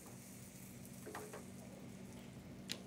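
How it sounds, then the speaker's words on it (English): A sandwich fries in a hot pan with a steady, soft sizzle throughout, with faint clicks and one sharp tick near the end and no talking. "the fry dance, the sizzle."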